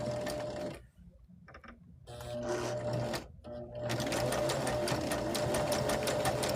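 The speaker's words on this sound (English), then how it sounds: "I'm going to take this to my machine and I am deciding to do a zigzag stitch on either side of the edge of my heart" A sewing machine runs zigzag stitches around the edge of a fabric heart on a Valentine's mug rug, in several rapid bursts separated by short pauses before running steadily, loud and close.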